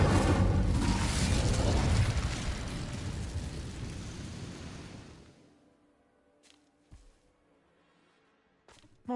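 The Incendio fire spell is cast in the video game Hogwarts Legacy. A loud roaring, eruptive whoosh of flame fills the first five seconds and then dies away, leaving near silence broken by a few faint clicks and a short burst at the end.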